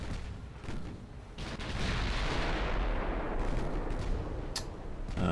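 Secondary guns of a French dreadnought-era warship fire in a naval battle video game, a dense run of overlapping booms and cracks that stays loud and steady throughout, with no talk over it.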